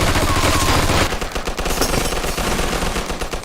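Loud machine gun fire in the video game Mafia 2, a continuous rapid burst at first, then a stream of sharp, closely spaced shots with heavy low-end punch, close and dominant.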